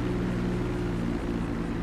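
A helicopter or plane flying over in GTA 5 on PC: a steady, loud droning engine hum that holds constant throughout, with no talking.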